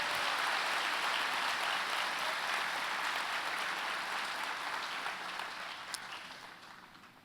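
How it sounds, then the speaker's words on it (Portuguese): A church congregation applauds in a long, dense wash of clapping that holds steady and then slowly fades, with no voices over it. "Que tal darmos um aplauso ao Senhor Jesus?"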